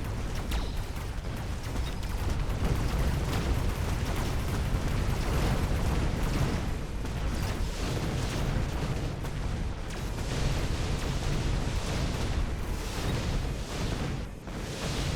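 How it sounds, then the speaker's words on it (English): Many missiles explode in a video game as a dense, continuous roar of overlapping blasts and rumbles, loud and unbroken for the whole stretch with no talking. "Oh my god, that's so many missiles."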